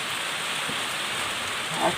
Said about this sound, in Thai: ฝนตกแรงเลยครับ